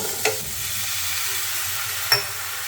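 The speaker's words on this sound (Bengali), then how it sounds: "ব্যাস এটাকে ভালো করে কষিয়ে নিই" Paneer and chickpea masala stir-fried in a pan, a steady low sizzle with two brief clinks of the spatula against the pan, no talking.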